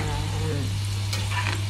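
Bang bang hantak, a Filipino snack, frying in hot oil, a steady close sizzle with a few faint scrapes of stirring and no talk.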